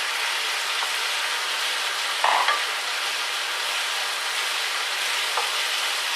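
Spring onions stir-frying with egg noodles in a pan for chicken chow mein, a steady close hiss and sizzle throughout with a brief louder stir or toss near the middle; no talking.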